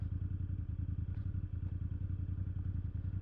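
A 2024 BMW F800 GS motorcycle ridden along a road with potholes and debris, its engine a steady low rumble throughout, with faint clatters and thumps from the suspension over the rough surface.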